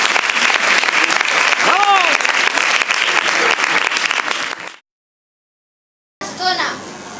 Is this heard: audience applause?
yes